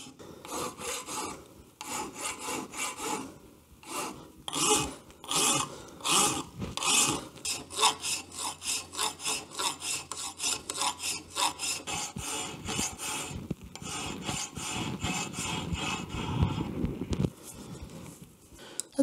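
A hand file rasps rhythmically across a Tiger Cub motorcycle intake manifold beside the carburetor, close and loud, with long even strokes that quicken into a rapid scraping run before slower, heavier passes near the end.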